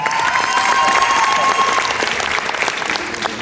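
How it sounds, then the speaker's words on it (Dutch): An audience applauds the finalists of the Miss Wellness Beauty 2019 pageant, with steady, dense clapping at full strength throughout and a faint tone ringing beneath. "Geef ze nog een applaus."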